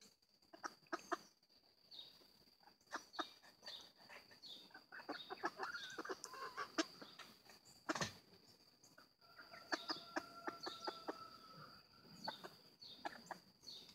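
Backyard chickens cluck and squawk in scattered bursts, fairly close but soft, with one sharp louder call near the middle and quieter rustling between calls.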